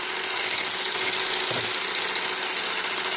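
An electric mixer on its normal setting beats a homemade ice cream mixture, giving a steady, continuous motor whir close by with no talking.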